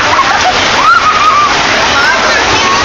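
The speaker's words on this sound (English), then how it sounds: "Took a little shower in that water coming off the roof." Rainwater pouring steadily off a roof onto a street during June rain, a loud continuous splashing rush close by, with a voice talking over it.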